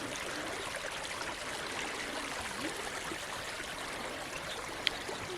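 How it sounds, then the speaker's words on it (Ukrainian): A small mountain stream in the Svydovets range of the Carpathians flows with a steady, soft rushing and trickling, close by and unbroken, with no voices over it. "Я би більше сказав, що якийсь потічок"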